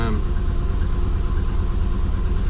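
A twin-turbo Subaru engine idles with a steady low rumble while still warming up, running continuously and close by without any talking.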